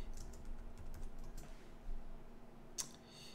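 Fingers typing an artist's name on a computer keyboard, a quiet, close patter of key clicks in an irregular burst over a faint steady hum, with no one speaking.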